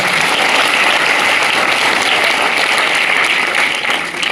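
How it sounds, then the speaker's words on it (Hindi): Loud, sustained applause from an audience at a school farewell party as a vice principal is called up, steady dense clapping filling the whole stretch and easing slightly at the end. "जोरदार तालियां"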